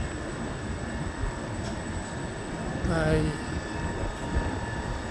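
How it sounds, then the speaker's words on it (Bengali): A long train at the Uppsala station in Sweden hums and rumbles at moderate distance, with a brief rising electric whine midway; a voice speaks briefly. "এই যে ট্রেন"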